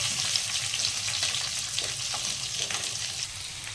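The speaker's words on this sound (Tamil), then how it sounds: "வெட்டி வச்ச வெங்காயம் சேர்த்துக்கலாம்" Chopped onions and green chillies frying in a pan, a dense continuous sizzle close up with faint stirring scrapes, no voices.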